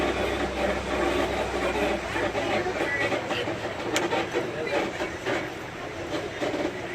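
A Disney tram on the parking-lot run to Magic Kingdom rolls with a low rumble and rail-like clatter that eases off as it slows to a stop, and faint activity continues around it.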